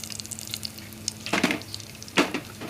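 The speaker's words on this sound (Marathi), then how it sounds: "त्यात आपण थोडीशी मोहरी टाकून घेऊ," Mustard seeds and cumin drop into hot oil in a pot for chole masala, giving two sudden bursts of crackling sizzle over a quiet kitchen hum.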